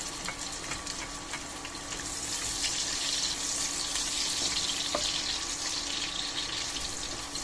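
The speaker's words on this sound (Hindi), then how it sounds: "ये मैंने 1 कप ऑयल इसमें डाल दिया है। अब मैं इसमें अनियन डाल दूंगी अपनी।" Onions for chicken biryani sizzle in about a cup of hot oil, a steady bright frying hiss that holds evenly throughout, close and fairly loud with no talk.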